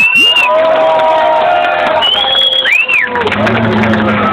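A crowd cheers loudly, with whoops, shouts and applause, while pitched voices rise and fall over the din.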